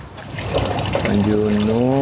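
Water from evaporative cooler pump nozzles trickles steadily into plastic bags tied over three nozzles, a close, continuous wet splashing heard under a man's speech.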